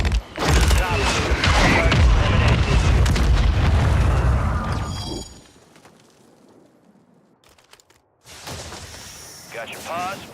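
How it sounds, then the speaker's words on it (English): A mortar explodes in the Warzone video game with a loud sustained boom that fades out, followed by quieter battle noise and voices. "Mortar, watch out."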